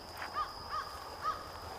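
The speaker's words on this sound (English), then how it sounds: "Yeah, crow." A crow caws three times outdoors in wooded country, spaced, fairly distant calls over a steady background hum.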